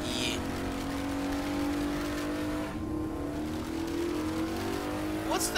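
A four-person car in the video game Saints Row: The Third drives with a steady engine drone that rises in pitch as it accelerates, with a brief tire squeal near the end.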